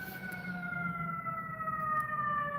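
A distant emergency vehicle siren wails in a steady, slowly shifting tone, heard faintly from indoors against a low rumble of background noise.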